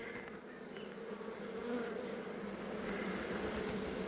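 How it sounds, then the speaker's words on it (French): A swarm of honeybees buzzes around a Dadant hive in a steady, dense drone with no pauses; fairly quiet and continuous, with no talking. "il y a quelques abeilles qui se regroupent de nouveau là"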